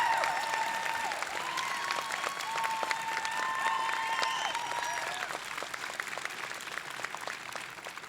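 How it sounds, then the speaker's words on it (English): Steady applause from a commencement audience honoring the faculty of the Colleges of Law, a dense wash of many hands clapping that holds for several seconds and slowly thins toward the end. "I would like for you to lead the applause"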